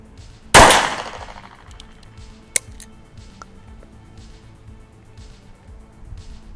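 A homemade Thai gun fires a single rubber bullet, one sharp loud crack that rings out and decays, followed by faint clicks and handling noises in a quiet room.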